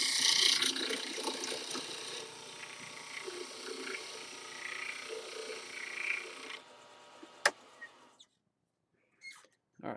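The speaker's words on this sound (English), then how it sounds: "I'm going to square that off with a square carbide cutter" A lathe squaring the end of a carbon fiber and burl wood ring workpiece with a square carbide cutter, a steady whirring scrape for several seconds that stops, followed by a sharp click and near silence.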